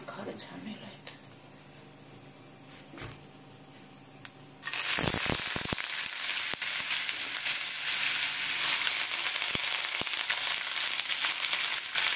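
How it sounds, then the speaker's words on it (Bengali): Potatoes with black cumin seeds go into a hot wok in a home kitchen. After a quiet start, a sudden loud sizzle bursts in and holds steady, crackling up close to the end. "ওপাশে আলু ভাজা করবো ওই জন্য কড়া চাপিয়েছি"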